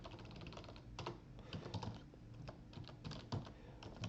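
Keys clatter on a computer keyboard in quick irregular bursts, close and fairly quiet, as someone types a terminal command to install a software package.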